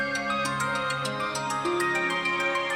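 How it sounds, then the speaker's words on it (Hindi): Phone ringtone sounding for an incoming call in a Pakistani TV drama, a steady melodic tone pattern repeating evenly and fairly loud throughout, with no talking over it. "तो फिर उजाला की कॉल क्यों आ रही थी?"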